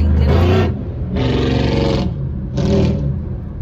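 A car engine revs loudly three times, each roaring burst separated by brief drops to a lower idle rumble.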